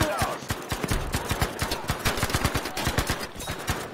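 Rapid gunfire from the video game Battlefield 5 rattles in dense, fast bursts throughout, loud and continuous with sharp repeated cracks, with game voices faintly mixed underneath.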